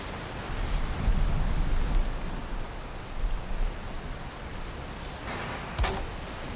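Steady, dense rain falls in the Valheim video game, a broadband hiss of rain on surfaces filling the whole stretch with a few louder gusty swells and a brief sharp thump near the end, with no talking over it.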